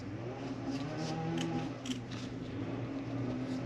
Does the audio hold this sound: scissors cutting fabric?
yes